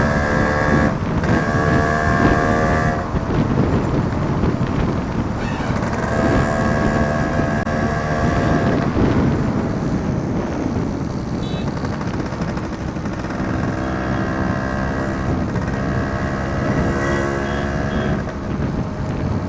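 A Yamaha RX100 motorcycle engine runs loud and close for the whole stretch, its exhaust popping in a rapid, rattling burst pattern as the revs rise and fall, with no one speaking.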